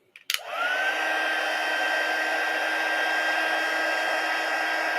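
A heat embossing tool starts with a click and then blows a steady, loud whir with a high tone, melting embossing powder on snowflakes for a handmade winter card. It runs alone and continuously to the end.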